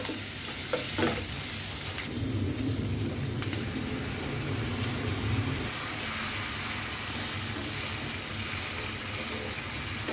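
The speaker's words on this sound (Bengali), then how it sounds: "মশলাটা খুব ভালো মতন কষিয়ে নিব" Spice paste sizzles loudly and continuously in a large 26-inch frying pan while a utensil stirs and scrapes through it up close, with a steady hiss throughout.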